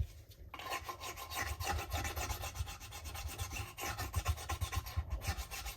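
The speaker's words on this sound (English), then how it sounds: "I'm using a nail file here, just a normal nail file. Just to soften those edges." A normal nail file rasps back and forth against wood edges by hand, a steady rhythmic scraping that is close, continuous and fairly quiet.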